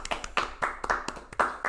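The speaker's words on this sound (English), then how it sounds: "Round of applause right now." A few people clap in a small room during a casual podcast, giving brief, uneven bursts of close hand claps with short gaps between them.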